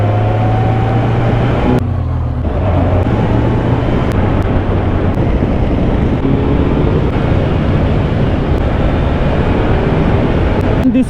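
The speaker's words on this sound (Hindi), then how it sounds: "दिस इज द टाइम जब हम हाइपर राइड कर रहे हैं अपनी कावासाकी Z900 पे बहुत जोरों शोरों से" A Kawasaki Z900 motorcycle ridden hard on the Chandigarh–Manali national highway gives a loud, continuous engine roar mixed with wind rush, its pitch shifting with gear changes and a brief dip near the start.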